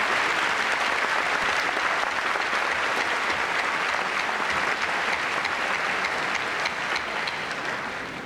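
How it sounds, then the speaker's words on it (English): Sustained applause from a graduation ceremony crowd, steady dense clapping filling the hall for about eight seconds before slowly tapering at the end. "give me a round of applause"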